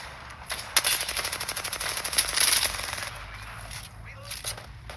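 Rapid automatic gunfire in the battle royale game Apex Legends, a fast rattling burst of close shots lasting a couple of seconds, followed by scattered quieter pops and clinks.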